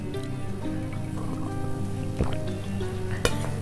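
Spices and tomato sizzle steadily while being stir-fried in a pan, a continuous soft crackle with occasional louder scraping clicks from stirring, and no talking.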